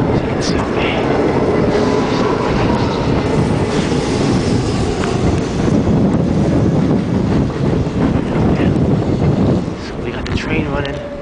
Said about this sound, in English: Trains are still running. Look at the train.